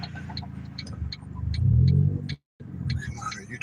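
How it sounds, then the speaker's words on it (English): A car rolls along with a worn, noisy wheel bearing that drones and rumbles steadily beneath the cabin noise, with a brief dropout partway through; a person talks over it. "You guys can hear how bad that wheel bearing's gotten on the car."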